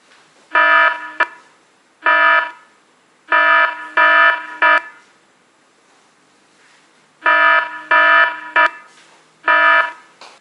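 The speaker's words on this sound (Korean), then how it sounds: "이런 식으로 이제 알람이 울리게 되고" Temperature alarm from fever-detection software sounds in loud, harsh electronic buzzing bursts, repeated in clusters of one to three with short gaps, close and alone.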